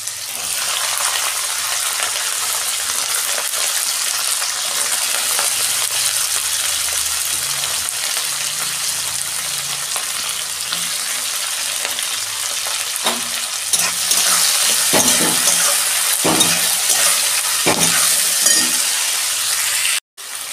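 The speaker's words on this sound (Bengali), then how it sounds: "তেল গরম হয়ে গেছে, আমি সবজিগুলো দিয়ে দিচ্ছি" Vegetables hitting hot oil for egg chowmein, a loud continuous sizzle that swells near the end, with a few clinks and scrapes of stirring in the pan.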